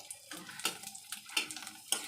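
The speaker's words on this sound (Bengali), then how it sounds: "এবার আমি ভাজবো তোজোর পছন্দের ভেন্ডি পাঁপড়।" Okra papad, thin fried lentil wafers, sizzle in a pan of hot oil with a steady crackling hiss broken by several sharper bursts of spitting, close and fairly quiet, with no talking.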